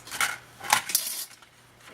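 Scissors snip the corners of paper while making a scrapbook mini album, three short, crisp cuts close by in quick succession, followed by quiet.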